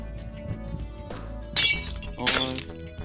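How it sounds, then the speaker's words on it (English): Glass panes being placed in Minecraft, two bright crisp glassy clinks about a second apart over a quiet low background hum. "Place glass pane, leaving a gap of 3."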